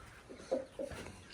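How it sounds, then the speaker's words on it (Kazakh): Chickens, including Australorp and Adler hens, cluck in short faint bursts inside a coop, a few soft calls over quiet background. "Бүгін біздер тауық қораға келіп жатырық."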